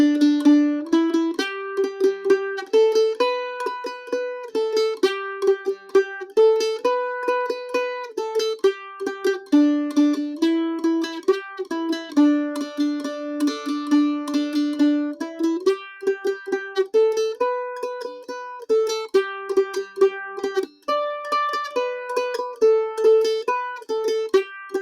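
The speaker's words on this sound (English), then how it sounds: "this Nashville shuffle picking pattern, which is a quarter note, two eighth notes, quarter note" Mandolin picking a steady melody on a beginner tune in a Nashville shuffle pattern of a quarter note, two eighths and a quarter, bright rhythmic plucked notes played alone without talk.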